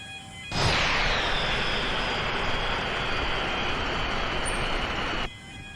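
Airliner landing in Microsoft Flight Simulator 2020 during snow and rain: a loud, steady broadband roar of engine and rushing air that starts abruptly, holds for about five seconds, then cuts off, with no talking.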